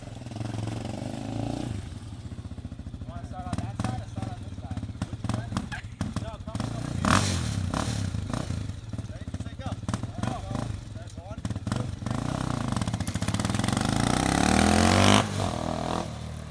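An electric recumbent trike out on a ride, its motor whirring steadily with rattling and scraping from the frame and road, the sound fairly loud and close throughout with no one talking.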